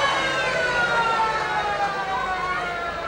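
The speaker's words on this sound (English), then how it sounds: "and that's the siren for half-time." A half-time siren sounding across a football ground during a 1989 NTFL versus Essendon Australia Day match, a loud sustained wail with steady tonal harmonics held for the whole stretch over crowd ambience.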